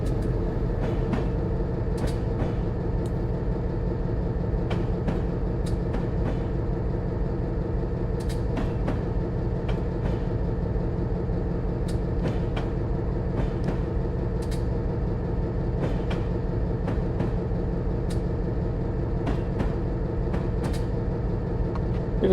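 An EMD GP9 diesel locomotive of the New Haven Railroad drones in a train simulator, a steady low engine rumble with faint rhythmic clicks of the wheels running throughout, loud and continuous without talk.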